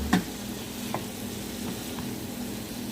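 Spices are stir-fried (kosha) in a pan, giving a soft, continuous sizzle. A few faint clinks from stirring break into it.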